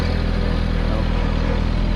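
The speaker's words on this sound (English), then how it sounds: "you can hear this engine. It's just extremely balanced, low vibration." A Mahindra 1100 series sub-compact tractor engine running in high range at modest revs, a close, loud and steady low rumble with an even pulsing beat and some mechanical clatter, no voices.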